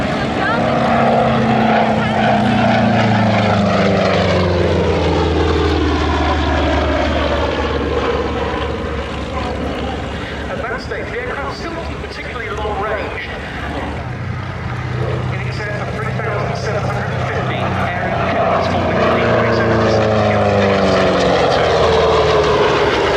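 A P-47 Thunderbolt fighter drones past with its engine and propeller, a loud rumbling tone that bends in pitch as it approaches and recedes, while a voice talks over it.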